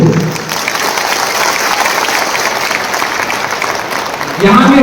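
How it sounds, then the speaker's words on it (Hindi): A large crowd at a BJP political rally in Amarpur breaks into loud, sustained applause, a dense, steady roar of clapping close by, with a voice rising as it fades at the end. "ये ताली नेता के लिए नहीं है, ये ताली अपना मुश्किल, अपना तोहफा, अपना कम्युनिटी, अपना पिपरासा के लिए है। तो जोर से ताली दो।"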